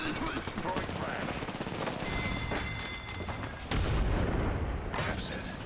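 Heavy gunfire rattles in the Apex Legends video game, rapid machine-gun bursts and booms close and loud, with a louder blast near the end that fits a frag grenade detonating.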